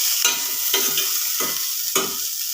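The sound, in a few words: bitter gourd being stirred and sautéed in a pan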